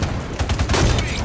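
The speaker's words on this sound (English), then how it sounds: "I'm fairly sure our sniper just shot me" Gunfire in Halo 5 during a Big Team Slayer match, heard as a loud, dense burst of shots with rapid repeated cracks filling the short moment, up close and without talk.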